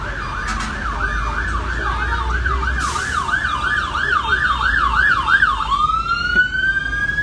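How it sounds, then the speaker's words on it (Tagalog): Fire truck siren wails in a rapid, rising-and-falling yelp as trucks pull away from a fire scene in a Manila neighborhood, loud and near over steady street rumble, then shifting to a long rising tone. "Isa-isa nang nag-aalisa ng mga fire truck."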